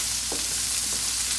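Onions and fish cake sizzle steadily in a pan while being stirred, a constant hiss with a couple of soft scraping stirs, close and moderately loud, with no voices.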